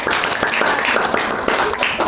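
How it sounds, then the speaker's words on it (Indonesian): A classroom of students claps for a group after a sandwich-making lesson, brief scattered clapping from a small crowd with a few voices underneath. "Beri tepuk tangan kelompok"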